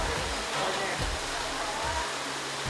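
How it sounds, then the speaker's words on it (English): Heavy storm rain pours down in a dense, steady broadband wash, loud and close, with faint low rumbles beneath and no pauses throughout. "the rain is coming down horizontal rather than vertical"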